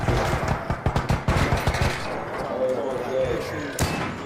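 Rapid bursts of gunfire from the shooter game Arc Raiders crack out in a quick cluster over the first two seconds, then a lone shot follows later against a quieter background.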